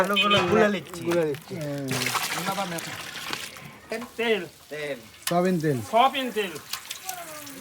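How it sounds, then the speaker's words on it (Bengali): Onions go into hot oil in a large pot holding about three litres, cooked for a big village feast. A brief loud sizzle rises between stretches of close conversation, and voices dominate most of the time. "পেঁয়াজ দিচ্ছি তেলের ভেতর"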